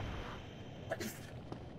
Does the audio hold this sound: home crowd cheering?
no